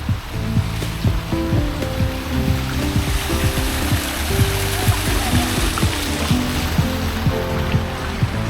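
Sea water washing below an island viewpoint at Langkawi, a continuous loud surf wash with a steady low motor-like drone underneath, no talking.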